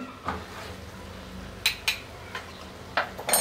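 Ground chili spices being stirred in a cooking pan for amra pickle, a quiet bed of faint frying under a few brief spoon scrapes and clinks against the metal, close and sparse, with no talking.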